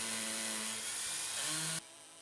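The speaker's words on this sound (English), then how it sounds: "You'll go through your pre-drilled holes right into the cement block." A drill runs hard and steady, grinding up close into a cement block through pre-drilled holes, then cuts off abruptly, leaving faint background hiss.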